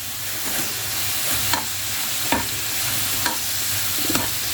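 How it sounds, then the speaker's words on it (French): Apples cooking in a pan on the hob, a continuous close sizzle with periodic stirring scrapes roughly every second, no one speaking. "Voilà, les pommes sont en train de cuire."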